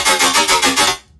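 Synth tone run through a tearout-style effects processing chain with added sub bass: loud, dense and gritty, pulsing in about five rhythmic bursts, then cutting off to near silence, no talking.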